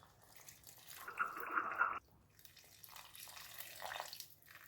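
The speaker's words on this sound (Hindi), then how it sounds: "आधा कप पानी शामिल करेंगे।" Half a cup of water poured into a cooking pan of potatoes for an egg masala curry, a short steady splashing pour lasting about a second amid quiet kitchen background.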